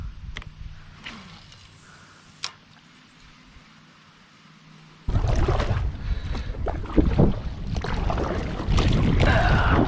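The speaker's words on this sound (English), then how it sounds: "Oh my goodness, this wind is ridiculous" Gusty wind by a small stream where pike are fished, starting as a quieter outdoor hush with a few knocks, then abruptly roaring loud against the microphone for the second half.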